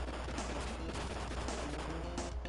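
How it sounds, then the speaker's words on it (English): The Burst spell from the Secret of Mana video game sets off a small explosion, heard as dense, crackling blasts that pop and rumble continuously and loudly without pause. "And Burst causes a little explosion."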